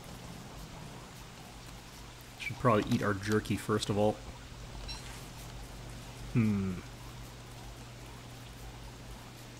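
Steady rain falling in the survival video game Reign of Caves, a constant soft hiss of pouring water throughout, with someone talking over it in places.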